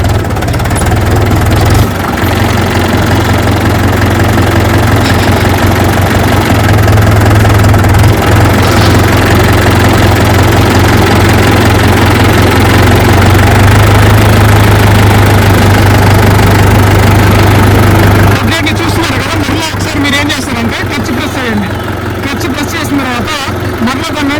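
A tractor engine chugs loudly and steadily at close range as the tractor starts moving on a road, a deep constant drone that roughens near the end.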